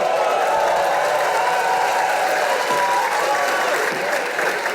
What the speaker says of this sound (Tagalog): Palakpak kayo ng palakpak